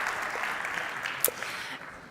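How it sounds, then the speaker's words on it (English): Audience applause at a Web Summit event in Uzbekistan, a soft, steady patter of clapping from a room crowd that stays fairly quiet and distant, with one sharper clap standing out midway. "he deserves a round of applause"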